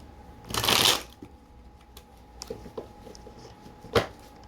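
A deck of playing cards being shuffled close up: one loud riffling burst near the start, then scattered softer flicks and taps, and a second short sharp snap of cards later on.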